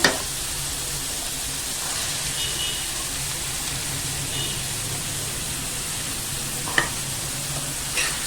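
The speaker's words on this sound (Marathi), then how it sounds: "टॅमॅटो आणि कांदा छान असा परतून घेऊया" Onion and tomato sauté in a pan over medium heat for egg bhurji, giving a steady close frying hiss with a faint clink near the end and no talking.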